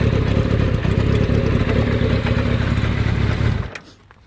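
Motorcycle engine running loud and close, a steady rumbling idle with quick throttle blips, then cut off abruptly near the end, leaving near silence.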